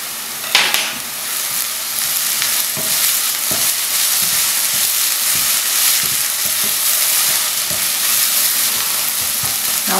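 Onions browning in a hot pan give a steady, close sizzle and crackle that runs without a break, with occasional stirring clicks and no talking.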